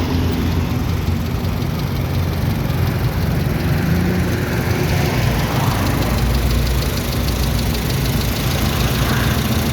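Steady, loud engine idle from a 1984 Mitsubishi Lancer SL Box Type with a misfiring, stumbling fault, idling around 700 rpm, a continuous close rumble with no voices.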